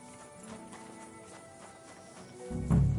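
Horses at a stable in the video game Kingdom Come: Deliverance II, hooves clip-clopping in a quiet, irregular patter, ending in a louder, heavier thump.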